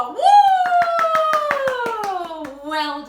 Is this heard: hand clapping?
yes